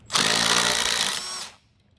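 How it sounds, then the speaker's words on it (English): An impact driver spins off a 3/4 inch nut on the underside of a bike seat mount, one loud, close, continuous burst of buzzing and rattling hammering lasting over a second before it stops. "I'm using an impact driver. We're just going to insert between those and remove this 3/4 inch nut on the underside."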